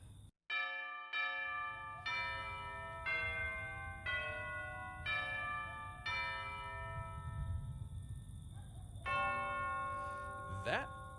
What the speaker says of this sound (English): That would be the bell indicating it's 1 in the morning.